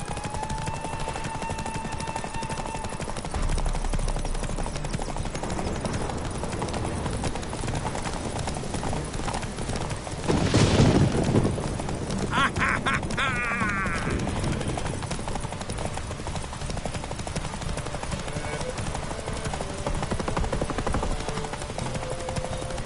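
Rapid clip-clop of galloping horse hooves during a horse race in The Witcher III: Wild Hunt, ongoing with music, a burst of louder rumbling midway, and voices talking over it.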